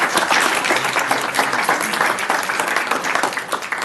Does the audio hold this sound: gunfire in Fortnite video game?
no